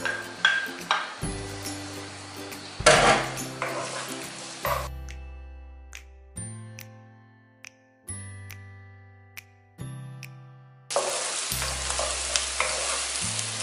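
Finely chopped onions hit hot oil in a pan, sizzling loudly, then repeated clanks and scrapes of a spoon stirring against the metal between bursts of frying hiss.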